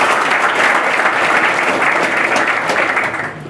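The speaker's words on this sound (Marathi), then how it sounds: "सगळ्यांनी एकदा जोरदार टाळ्या वाजवायच्या" An audience at an academy's third anniversary event in Satara bursts into loud, sustained applause, dense clapping that fades slightly at the end.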